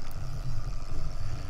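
Tractor engine in the video game Farming Simulator 2015, heard from inside the cab: a steady low rumbling drone with a faint higher whine, continuous and fairly loud, no talk.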